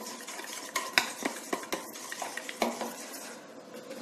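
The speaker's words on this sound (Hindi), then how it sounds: "जिससे जो गोभी हमारी पक रही है, उबल रही है।" Cauliflower boils in a pot of salted water while a utensil stirs it, giving soft scattered clinks and scrapes of metal against the pot over a faint bubbling wash, no talking.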